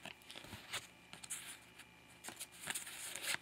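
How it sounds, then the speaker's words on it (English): Three playing cards being shuffled by hand close up, giving soft papery flicks and riffles in quick, uneven bursts against a quiet room. "I'm just going to shuffle them up"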